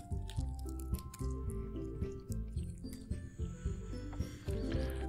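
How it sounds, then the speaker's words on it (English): Blood dripping in the horror visual novel Doki Doki Literature Club, wet squishy drips repeating in a rough rhythm over a steady low musical tone, fairly close and moderately loud. "Sounds like blood dripping on the side."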